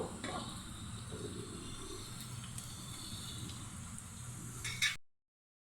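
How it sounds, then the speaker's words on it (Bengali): Vegetables sizzle steadily in a hot pan, a soft continuous frying hiss up close that cuts off abruptly near the end. "এগুলোকে একটু ভেজে নেব হয়ে গেল আমার সবজিগুলো ভাজা"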